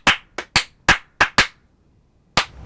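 Hand clapping in a small backyard project studio: seven sharp, separate claps in an uneven rhythm, six bunched close together and one after a longer pause, each crisp and close with silence between.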